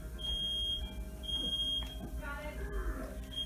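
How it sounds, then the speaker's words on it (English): Smoke alarm sounding during a Donkey Kong 64 play session in the Frantic Factory level, giving two long, piercing, high-pitched beeps and the start of a third over a low background hum and brief game or voice sounds. "now the smoke alarm will go off"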